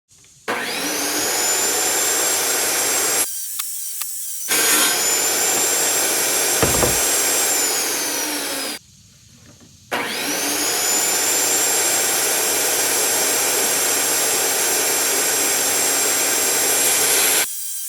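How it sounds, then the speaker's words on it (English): A table saw cuts wooden frame pieces for a hidden cat litter box in an RV camper, with three long, loud, steady whining cuts separated by short pauses, and no talking. "Now we'll cut all the outsides on the table saw."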